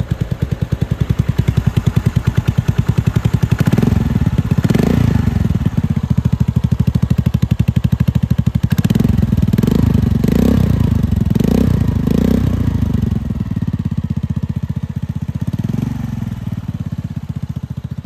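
A Regulmoto Grido scooter fitted with a replica Akrapovic exhaust is revved up close, its engine rising in several loud throttle blips over a rattly idle.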